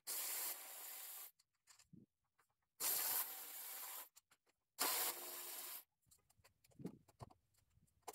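A cordless driver with a T20 Torx bit backs out screws in three loud, steady whirring bursts of about a second each, separated by pauses filled with faint handling clicks and small taps.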